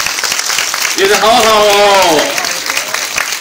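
An audience at a 2001 Taipei Film Festival screening Q&A applauds to welcome a guest onstage. Brief clapping swells over about a second, while a voice talks over it.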